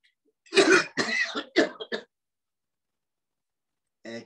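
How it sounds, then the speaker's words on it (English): A person coughs and clears the throat in a short series of about four close, loud bursts during a breathing exercise, followed by silence and one more brief sound. "breathe in and cough again."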